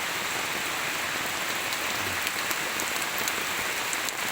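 Steady rain pours down in a forest during a storm, a dense, even hiss of drops striking leaves and surfaces, continuous and fairly loud with a few brighter individual patters.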